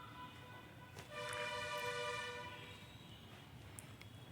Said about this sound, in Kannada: ಇವಾಗ 1 ವಿಸಲ್ ಬಂದಿದೆ, ಅದು ವಿಸಲ್ ಆರಿದೆ.